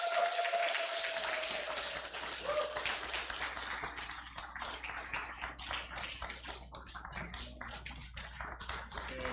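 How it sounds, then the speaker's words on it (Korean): Applause from a church congregation at a Seattle Korean church Sunday service, a dense, sustained wash of many hands clapping that gradually thins into scattered claps. "큰 박수 부탁드리겠습니다."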